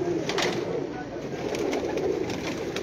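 Several pigeons keep up a continuous low cooing in a rooftop breeding loft in Sialkot, with faint voices of people talking nearby.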